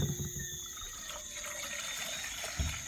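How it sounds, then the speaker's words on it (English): Water is poured into a cooking pan outdoors while making crawfish soup, making a steady close trickling and splashing that runs unbroken for about three seconds, with a soft knock near the end. "so I catch some water in the same pan"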